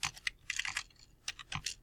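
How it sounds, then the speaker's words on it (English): Typing on a computer keyboard, clusters of quick clicky keystrokes in two bursts with a short pause between, close and fairly quiet, no talking. "So I'm typing my last name and the file that I'm making"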